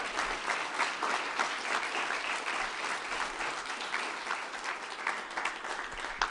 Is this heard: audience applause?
yes